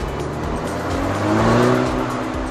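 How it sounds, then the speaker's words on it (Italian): A 2018 Peugeot 308 GTi facelift accelerates out of a curve, its engine note climbing in pitch and loudness close by, then easing off at the end. "A mano che si esce dalla curva si raddrizza lo sterzo e si dà gradualmente gas sull'acceleratore"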